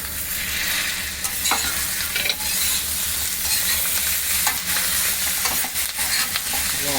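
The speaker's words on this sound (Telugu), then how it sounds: "ఒక్కసారి చిట్టపట్లు మనే వరకు కలుపుకోండి" Coriander, green chilies and curry leaves crackling and sizzling in a pan while chicken is stir-fried, a steady loud hiss with frequent scraping stirs and popping spatters throughout.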